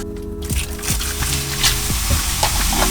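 Baking soda and vinegar fizzing in a camp cooking setup, a steady close crackling sizzle with scattered small pops, heard alone without speech.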